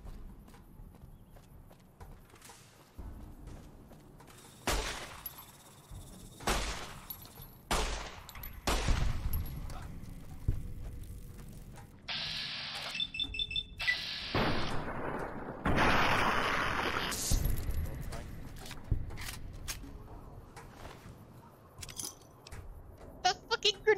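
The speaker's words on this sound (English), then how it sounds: "Shooting with fucking grenades." Grenade launcher firing in a video game: a string of heavy booming shots and explosions at uneven intervals, loud and close, with bursts of bright crackling debris and rumble between them.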